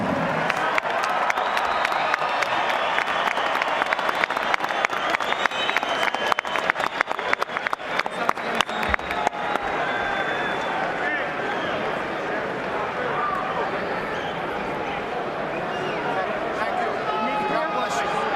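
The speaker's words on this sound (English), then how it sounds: "let's give them a round of applause" A crowd at a professional boxing event breaks into sustained clapping and cheering for service members, dense rapid applause that peaks early and then thins into a steadier murmur of claps and voices.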